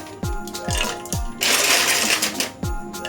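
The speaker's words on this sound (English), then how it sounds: "I'm adding few cubes of ice." Several ice cubes drop one after another into a bowl of coconut milk and pineapple juice punch, each landing as a sharp clink with a thud, followed by a brief louder rush of splashing and rattling.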